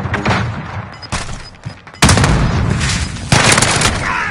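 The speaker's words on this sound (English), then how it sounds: "Throwing a flashbang." A flashbang grenade thrown in a shooter video game, heard as loud bursts of explosive blasts and gunfire: one sharp hit near the start and two heavier booms later, all close and harsh, with no voices.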